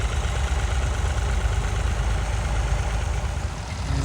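Massey Ferguson 135 tractor at a Norfolk ploughing match, its engine chugging in a continuous low rumble at moderate distance, steady throughout.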